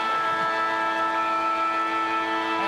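The final siren at the end of an Australian football match blares as a long, steady, tonal wail over a dense roar of crowd noise, holding its level throughout.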